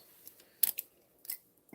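Scissors snip through white paper to cut out a circle, making a few short crisp clips close by in a quiet room.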